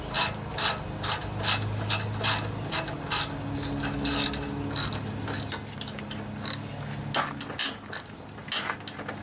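A hand ratchet clicks in quick repeated bursts while tightening bolts on a Briggs and Stratton OHV Intek engine during a head gasket repair. The pawl rattles are close and crisp, with short pauses between strokes.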